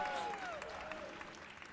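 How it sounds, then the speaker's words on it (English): Steady applause from a crowd at the start of a tournament's top-8 grand finals, a dense wash of clapping with a few whistle-like tones drifting over it, continuing evenly throughout. "Everybody give him a big round of applause."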